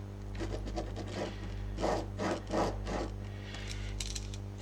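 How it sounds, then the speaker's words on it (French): A pen or marker draws a line across a paper sewing pattern on a table, making several short scratchy rubbing strokes close up over a steady low hum. "je vais faire un trait, voilà"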